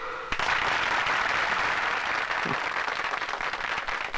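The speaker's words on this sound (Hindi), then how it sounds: "तालियां!" Film audience applause follows a patriotic speech about sacrifice for freedom, with continuous dense clapping throughout, moderately loud and without voices.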